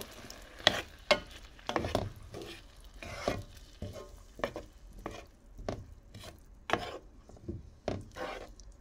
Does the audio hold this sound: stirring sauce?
yes